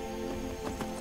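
A horse carries its rider in Skyrim, its hooves giving a few quick clip-clop hits over a steady, droning game background. The sound is short and fairly quiet.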